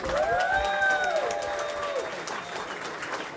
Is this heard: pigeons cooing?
no